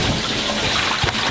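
Water spurts steadily into a sailboat's hull through an open 1.5-inch through-hole, a continuous close rushing gush with no talk.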